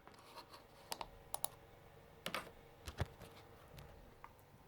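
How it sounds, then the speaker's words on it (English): A computer keyboard's shift key and a mouse's right button are pressed, giving a handful of sharp, separate clicks spaced irregularly over a quiet background. "you're going to press shift on your keyboard and you're going to right click on your mouse"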